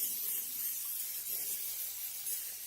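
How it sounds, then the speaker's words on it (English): A steady, airy hiss of an aerosol spray runs continuously for a few seconds, close to the microphone and fairly quiet. "I got some cooking spray, everyone."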